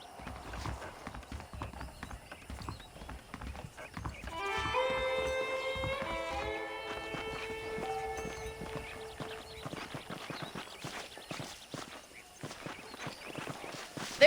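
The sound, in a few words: horse hooves clip-clopping in video game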